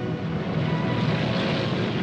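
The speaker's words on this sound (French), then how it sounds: "Sans répit, les avions allemands s'envolent vers l'Angleterre." German World War II propeller aircraft fly toward England, a steady droning engine roar of moderate loudness, continuous and unbroken, with no voices.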